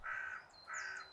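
A jay gives two harsh, rasping calls in a woodland, each drawn out and loud, separated by a short pause, with no other sounds around them.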